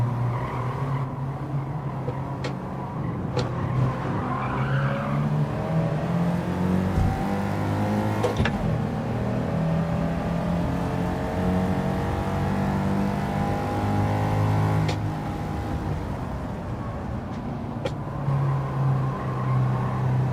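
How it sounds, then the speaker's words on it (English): A Porsche 356 races in Gran Turismo 7, its engine revving up and down through gear changes in a steady, loud drone with brief tire squeals. "This is the Porsche 356. It's one of the oldest Porsches."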